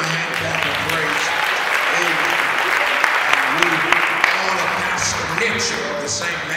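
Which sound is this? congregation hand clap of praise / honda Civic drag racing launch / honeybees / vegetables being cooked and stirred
congregation hand clap of praise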